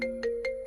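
A mobile phone lying on a car dashboard rings for an incoming call, a short, fairly quiet electronic ringtone of repeated tonal pulses.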